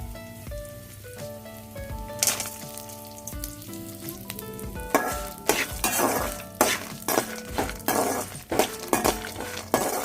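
Black pepper, cumin, urad dal and peanuts rattle and sizzle as they dry-roast in a hot pan, with repeated scraping stirs and light clinks growing busier over steady background music.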